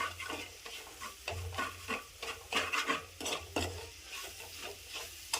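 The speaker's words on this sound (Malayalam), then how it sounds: "അതൊന്ന് ആദ്യം ഒന്ന് ഫ്രൈ ആക്കുക അത് കഴിഞ്ഞിട്ട് മിക്സ് ചെയ്യുക സവാളയുമായിട്ട്" A roasted coriander and chili spice mix fries with onions for a chicken curry, stirred repeatedly with a scraping spoon in a pan, giving steady close sizzling and rhythmic clatter throughout, with no voices.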